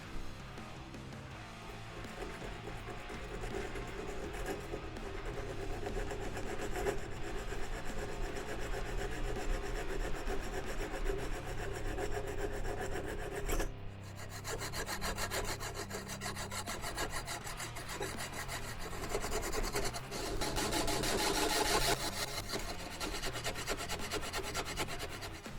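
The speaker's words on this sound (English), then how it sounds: "either kind of a round file or the kind of file that's flat on one side and curved on the other side" Round or half-round metal file worked across a motorcycle kickstand foot, a continuous rasping scrape at a steady level, close, with a brief break near the middle before the stroking resumes.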